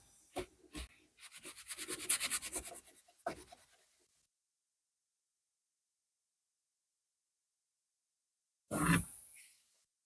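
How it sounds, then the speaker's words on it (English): A brass fitting on a split cane fishing rod is rubbed down by hand, making close, rhythmic scratchy rubbing strokes for a few seconds. After a long silence, one more brief rasping burst follows. "So I'm going to continue rubbing this down"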